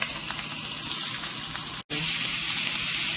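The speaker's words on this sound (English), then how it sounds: "I just flipped the steak." A ribeye steak, cooked sous vide, sears in a hot pan with a steady, close, crackling sizzle that cuts out for a split second before resuming.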